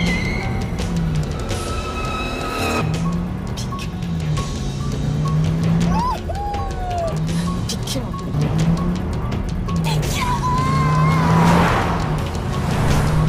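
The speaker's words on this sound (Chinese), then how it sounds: "他们同时踩下油门。" Two cars rev and accelerate toward each other in a film scene, loud engine roar with rising tones and a brief tire squeal, while a voice narrates over it throughout.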